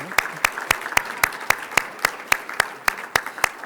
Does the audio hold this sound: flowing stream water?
no